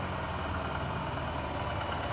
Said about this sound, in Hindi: ये नई वाली लिवो, आइडियल कंडीशन पर इंजन साउंड।